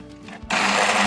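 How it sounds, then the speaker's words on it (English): A Mealthy immersion hand blender switches on abruptly while submerged in butternut squash soup, jumping from quiet to a loud, steady whirring buzz. "Now I'm gonna use the Mealthy hand blend immersion blender."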